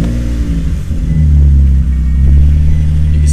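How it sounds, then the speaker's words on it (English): A G35 350Z car engine warming up to operating temperature, a loud, close, steady rumble that swells slightly partway through and holds, with no talk. "Go ahead and start up your engine and warm it up to normal operating temperature."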